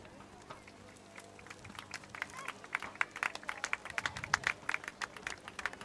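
Scattered audience applause at a Battle of Seddori historical reenactment, a crowd's clapping that grows denser and louder over several seconds while a commentator talks over it.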